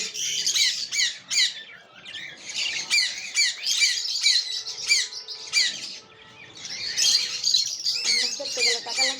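Pet budgerigar squawking and chirping continuously in a rapid, busy stream of sharp calls, close and loud, with brief pauses; no talking.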